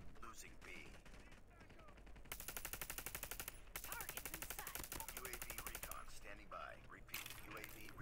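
Rapid bursts of automatic gunfire crackle loudly and in clusters, with brief pauses between volleys, over a busy Call of Duty: Mobile game soundscape.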